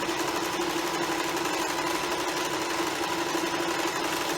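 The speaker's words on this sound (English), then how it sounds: "we're just going to sew all the way around, keeping this right next to this sewing foot" A sewing machine runs steadily to stitch around a homemade therapeutic heating bag, giving a loud, even, continuous mechanical whir with a fast rhythmic chatter close by, without any talking.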